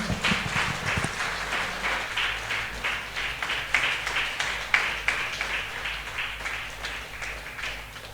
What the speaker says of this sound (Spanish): Damos fuerte aplauso al Señor